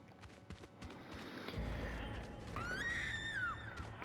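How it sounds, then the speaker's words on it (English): A woman's high, wavering scream rises above rustling ambient noise in an Alan Wake–themed Fortnite Creative map, arriving partway through and fading after about a second. "Oh, she's screaming."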